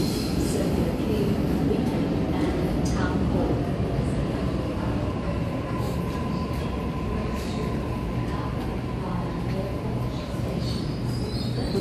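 A Waratah train, set A44, runs at the Central station platforms with a continuous rumble and rolling rail noise, faint wheel squeal and a high whine lingering throughout.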